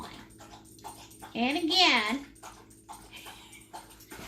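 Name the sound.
dog whimpering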